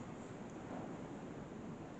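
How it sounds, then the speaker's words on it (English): Strong wind blows outdoors at St Bartholomew, a faint steady rushing roar with low buffeting on the microphone and no voices. "The wind, again, it's really windy, like really windy today."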